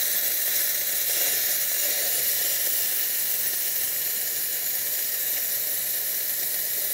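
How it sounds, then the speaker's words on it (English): A steady, loud hiss of steam blasting from a Rancilio Silvia espresso machine's steam wand, continuous and unbroken throughout. "We're going to cool off the boiler by just running the steam on to get rid of all that extra steam."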